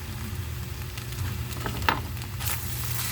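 Spicy noodles stir-fried in a pan with fresh chili and white sesame, a close, steady sizzle with scraping stirs and a few sharp pops, no voices over it.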